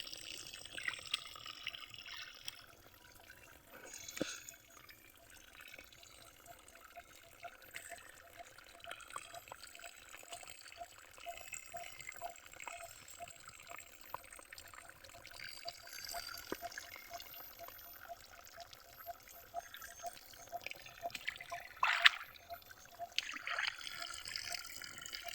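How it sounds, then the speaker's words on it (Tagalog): Water trickles and drips faintly at an outdoor spot where laundry is washed, a thin steady dribble with small drips continuing throughout and a few sharper splashes near the end. "Nakita ko dito ko ano, gamay ra kong tulo ang tubig."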